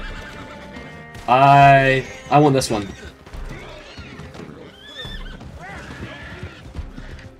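Horses neigh loudly in a video game, with one strong whinny near the start followed by a shorter second call, while people talk over the game sounds.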